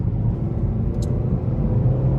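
A 2019 Honda Accord 2.0T with a ten-speed gearbox accelerating, a loud, close, steady low engine drone and road rumble, with a brief faint click partway through.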